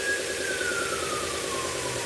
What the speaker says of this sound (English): Ambulance or the cops going by.